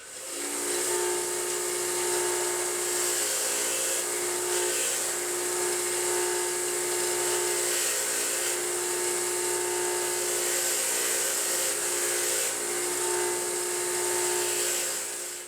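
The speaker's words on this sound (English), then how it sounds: "I'm going to go hit it with the wire wheel. See if I can pull some of that burr out and away." A wire wheel spins against metal to clear a burr from a threaded part on a wagon brake power booster upgrade, a steady close whine with a high hiss that holds for about fifteen seconds without talk.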